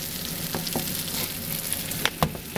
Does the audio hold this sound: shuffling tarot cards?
no